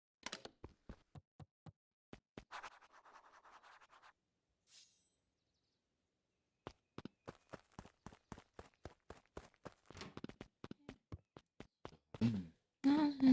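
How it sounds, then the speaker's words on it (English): Footsteps in the video game Beacon Pines: a quiet run of quick, evenly spaced steps, a brief pause, then more steps drawing closer and louder toward the end. "Luca heard a group of footsteps approaching."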